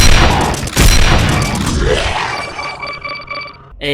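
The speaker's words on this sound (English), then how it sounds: "A blood-powered railgun," A blood-powered railgun in the Doom mod Shrine fires with a loud booming discharge, then a long ringing, fading whine that tails off over a few seconds.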